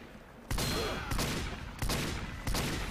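Ambassador revolver shots from the Spy in TF2: four heavy, evenly spaced reports about 0.6 to 0.7 seconds apart, loud and close, each leaving a sustained roar of combat noise behind it with no voices over it.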